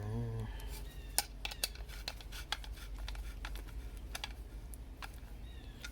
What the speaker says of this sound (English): I am going to take my tin snips and cut this so there isn't all this excess